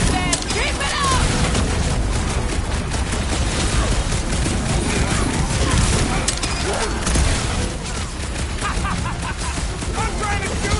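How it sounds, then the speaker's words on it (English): Gunfire in the video game Guardians of the Galaxy crackles in dense, rapid bursts over a loud battle din, with voices shouting throughout. "I'm trying to shoot here!"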